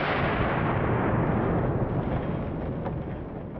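A single heavy, booming blast from a 45-70 semi-automatic rifle fired at a block, loud and close, with a long rumbling tail that fills the short clip.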